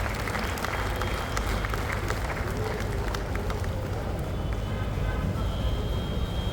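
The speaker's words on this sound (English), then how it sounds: "Let's give this wonderful couple a big round of applause." A Rotary district conference audience applauds in a big hall, making a thick, continuous roar of clapping that holds at full strength the whole time, with voices mixed into the crowd noise.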